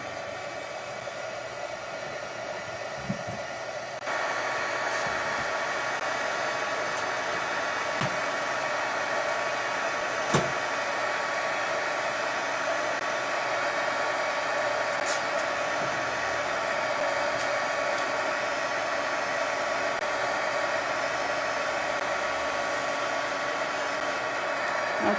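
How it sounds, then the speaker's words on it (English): A heat tool warms a stamped foam card, giving a steady loud blowing whir that runs continuously, its fan tone rising slightly a few seconds in and holding for the rest. "I'm just gonna heat it for 15 seconds."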